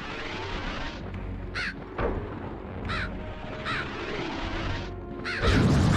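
Scattered crow caws ring out in MediEvil on the PlayStation, several separate harsh calls spaced a second or so apart over a steady loud rumble, ending in a heavy impact burst.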